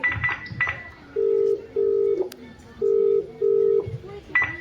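A few quick keypad tones, then a phone's ringback buzzes in paired pulses with pauses between, ringing on with no one answering.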